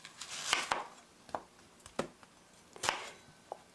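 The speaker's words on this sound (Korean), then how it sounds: "양파 2개는 다 썰었습니다." Knife chopping onion for curry chicken on a cutting board, sharp separate chops in an uneven rhythm, close and clear with no talk.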